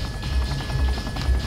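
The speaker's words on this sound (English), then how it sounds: "And then I'm going to put the chopper into a firing position." A military helicopter in the combat game Arma 2 hovers close by, its rotor beating in a steady rhythmic thump over a constant engine whine.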